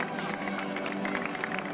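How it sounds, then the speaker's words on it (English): A stadium crowd at a Barcelona–Real Madrid Clásico applauds Carlo Ancelotti and the Real Madrid players, a dense, distant wash of clapping with murmuring voices mixed in. "Applause for Carlo Ancelotti and the Real Madrid players."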